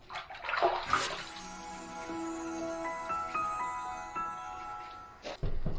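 Water runs and splashes as a freshly shaved head is rinsed over a basin, a continuous close pouring with ringing tonal swirls and a few louder splashes at the start and end.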